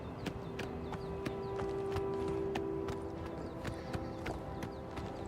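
Horse hooves clip-clop at a steady walking rhythm in the video game Oblivion Remastered, evenly spaced clear hits over a constant tonal game hum, with no talking.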